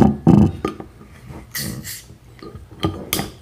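A bottle of Kohatu-hopped experimental beer (New Zealand hop) being cracked open: two short, breathy bursts of hiss and a faint glassy clink stand out against a quiet room.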